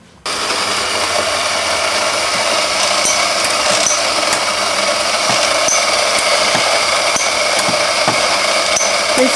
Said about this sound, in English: I'm just going to put the grinder on.